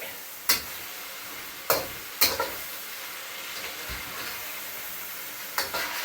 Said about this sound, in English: Stir fry these noodles for a minute.